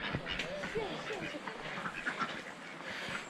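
Ducks quack intermittently among the steady murmur and talk of people at an outdoor market in the Ourika Valley, the calls moderately close but partly buried under voices.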